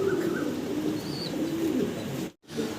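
Young fancy pigeons coo steadily in a loft, soft rounded calls repeating close by with a few faint chirps, breaking off briefly near the end before resuming.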